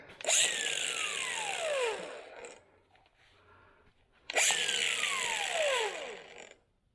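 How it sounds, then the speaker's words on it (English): A handheld angle grinder cuts through material for a DIY raised garden bed, heard as two loud, sustained cutting bursts of about two seconds each, separated by a quieter pause with a descending pitch sweep as the disc spins down. "Then I'm going to use this grinder here"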